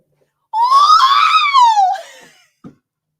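A person's voice imitates an R2-D2 scream: a single loud, close, warbling electronic-sounding shriek lasting about a second and a half, sliding downward, followed by a brief faint click.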